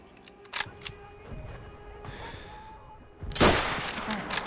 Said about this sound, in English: Enemy artillery!